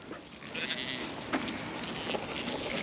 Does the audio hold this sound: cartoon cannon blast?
no